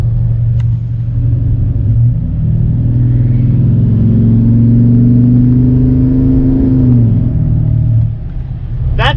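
A 500-horsepower 2016 Chevy Silverado 2500 pickup with a 6.6L LML Duramax diesel accelerates on a straightaway, its loud, deep engine drone rising steadily in pitch from inside the cab before easing off near the end.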